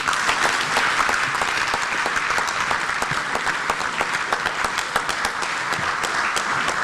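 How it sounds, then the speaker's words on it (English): A parliamentary conference audience on family and sovereignty gives a loud, sustained round of applause. The close, dense clapping continues evenly for nearly seven seconds. "A round of applause for the Chief of Staff of the Republic of Ghana"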